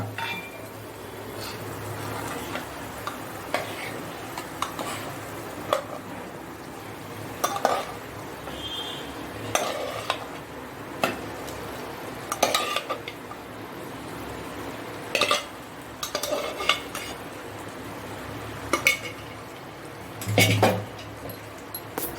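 Pav bhaji vegetables are stirred in a pan with a spoon, giving intermittent scraping and clinking strokes spaced a second or two apart over a faint sizzle, with no voices.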